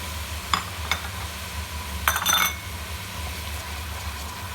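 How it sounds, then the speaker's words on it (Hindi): Whole garam masala spices frying in oil in a pot for Sindhi biryani, a soft sizzle broken by a few metallic clinks and a short scraping stir from a spoon. "जब ये थोड़ा सा फ्राई हो जाएगा इसमें हमने साबुत गरम मसाले डाल देने हैं"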